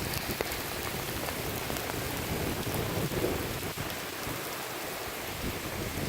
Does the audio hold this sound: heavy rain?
yes